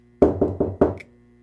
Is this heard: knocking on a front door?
yes